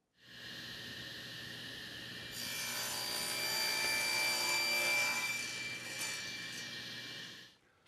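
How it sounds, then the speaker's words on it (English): A saw crosscuts a poplar board being made into a guitar neck blank to 34 inches, a steady rasping cut that swells louder midway and runs nearly eight seconds alone before trailing off. "First thing we're going to do is cut this piece to length, to 34 inches."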